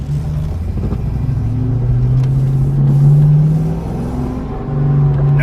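A deep, loud Mustang engine rumble idles and revs gently, with a throaty exhaust burble through Flowmaster 40 mufflers and no catalytic converters, swelling and settling over several seconds.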